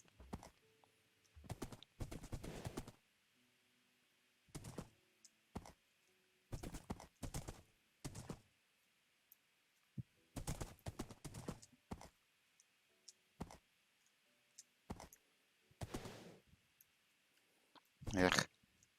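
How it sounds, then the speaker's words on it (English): Horse hooves clip-clop in short bursts of steps while riding through trees in Minecraft, separated by quiet gaps, with one louder burst at the end. "It's hard to take my horse through here because there's so many trees."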